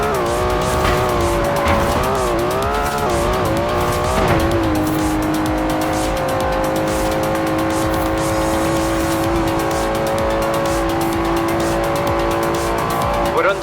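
Forza Horizon 4 car racing through city streets, a loud continuous engine roar with shifting revs and tire squeal, close and sustained throughout with no talking.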